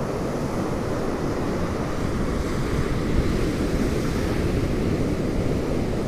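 Ocean surf rolling and breaking on an outer sandbar along an Atlantic beach, a steady, dense wash of breakers with wind buffeting the microphone, with no voices.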